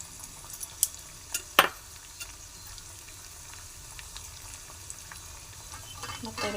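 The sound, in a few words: frying chillies and cashews in ghee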